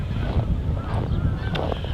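A flock of geese honking outdoors, dense overlapping calls close by with steady wind noise buffeting the microphone throughout.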